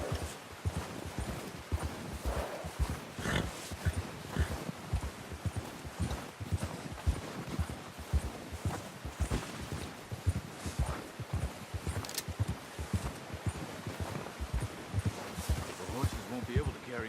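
Horses in the Red Dead Redemption 2 video game walk with steady, fairly close hoof clip-clops in an even rhythm, while characters speak over them now and then.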